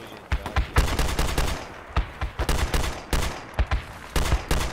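Gunfire in the tactical shooter Project Reality: loud, close automatic bursts and single shots in rapid clusters, sharp cracks with short gaps between volleys, continuing through the whole stretch.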